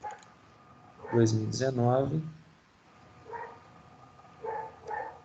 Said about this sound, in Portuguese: Tem cachorro latindo aí.